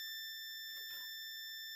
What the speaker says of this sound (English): beep, you're gone.